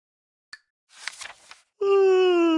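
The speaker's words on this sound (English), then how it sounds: "He stretched and yawned loudly." A cartoon cat gives a loud, drawn-out yawn that starts with a short breathy sound and swells into a long voiced, falling tone at the end, close and clear against silence.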